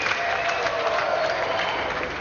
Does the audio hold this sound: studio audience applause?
yes